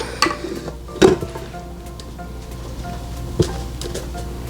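A spoon stirs box cake batter in a pot with soft scraping and a few sharper knocks against the side, close up and with no talk.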